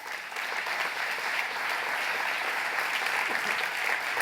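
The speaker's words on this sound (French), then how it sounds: "si vous voulez bien les applaudir une nouvelle fois" Steady audience applause fills an awards ceremony for eco-activities and responsible digital work, dense and even throughout with no voices.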